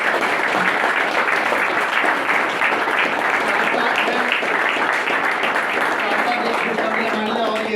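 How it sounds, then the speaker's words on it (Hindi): Loud, continuous crowd clapping at a recovery birthday celebration, dense and even for the whole stretch, with faint voices mixed in toward the end. "आज एक और बार जोरदार तालियां"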